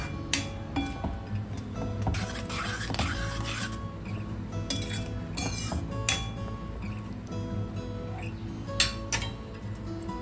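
A spoon clinks and scrapes against a pan as turmeric, red chilli and salt are stirred into pav bhaji: a steady run of close metallic ticks and rasps with no talk.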